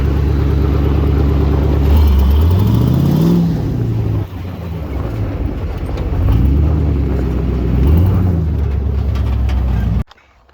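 LS-swapped one-ton Jeep CJ driving in high gear, a loud close V8 roar with engine pitch climbing and falling through several revs before cutting off abruptly.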